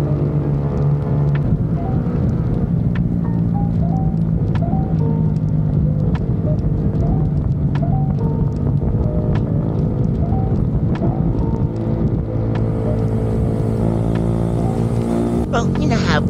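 Motorcycles, including a classic bike, ride a mountain road toward Sagada, their engines rumbling steadily and close throughout while people talk over the noise, with a brief higher rise near the end.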